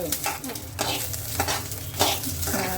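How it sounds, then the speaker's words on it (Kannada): Green chillies for a North Karnataka chilli and chana dal chutney roast in a pan, giving a close crackling sizzle broken by a few sharp stirring scrapes. "ಇನ್ನೂ ಸ್ವಲ್ಪ ಹುರಿಬೇಕು ಅವು ಧೂಮ್ದಾಗ ಹುರಿಬೇಕು"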